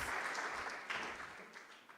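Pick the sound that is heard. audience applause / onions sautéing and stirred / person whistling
audience applause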